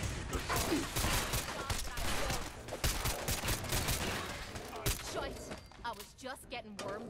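Turret fire in Fallout 4 rattles in fast, dense bursts with sharp impacts and thuds over several seconds, loud and close, while someone speaks briefly between the volleys.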